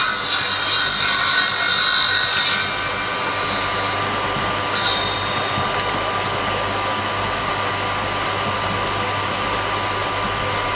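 A loud circular saw whines steadily as it cuts wood, with a high-pitched grinding edge that cuts out, leaving a constant motor hum and drone.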